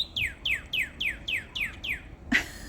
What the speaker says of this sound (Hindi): इधर से चिड़ियों की आवाज़ इतनी अच्छी आ रही है ना